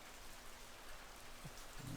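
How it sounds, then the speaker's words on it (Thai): Dense, steady hiss of heavy rain pouring down in the video game Left 4 Dead 2 (The Passing), continuous and even with no voices. "ฝนตกหนักมากเลยพี่"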